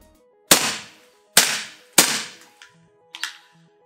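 Umarex M1A1 gas blowback airsoft gun fired on semi-auto, three loud, sharp cracks followed by a slightly softer fourth shot, each with a brief decaying ring and faint mechanical clicks between.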